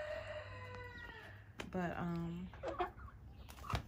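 Chickens raised for meat, grown too big, cluck and crow in short bursts near the microphone as they wait to be processed for the first time, with a person talking over them.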